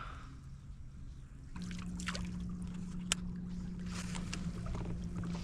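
A kayak gliding through shallow water on a bass fishing trip, with soft trickles and splashes of the hull and paddle, faint and close, plus a low steady hum.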